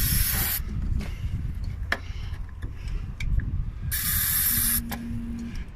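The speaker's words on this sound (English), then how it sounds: "We're going for a third spray?" Throttle body cleaner sprays from an aerosol can in two loud hissing bursts, one at the start and one near the end, with quieter clicks and handling noise between them.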